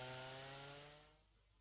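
A chainsaw cuts through timber, its loud, steady buzzing drone with strong harmonics holding, then easing off and fading toward the end, with no talk.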